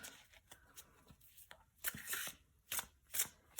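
Tarot cards are shuffled by hand in short, quiet bursts of riffling and sliding, a few separate flurries in close succession against a hushed room.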